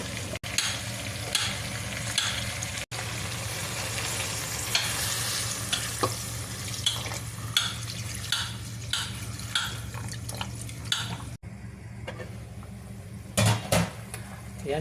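Browned chicken tinola sizzles steadily in a pan as chayote and water go in, with stirring and scraping clatter from pots and utensils throughout.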